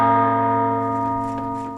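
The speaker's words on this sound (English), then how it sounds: "It doesn't matter which bell you ring first" A temple bell in the Baldur's Gate 3 video game rings once, a rich sustained metallic tone with layered overtones that slowly fades, alone and close.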